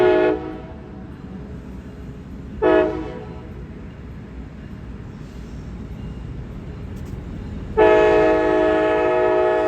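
A Brightline train sounds its horn at a Boca Raton rail crossing where the crossing arm fails to come down: two short loud blasts, then a long sustained blast, over a low rumbling background.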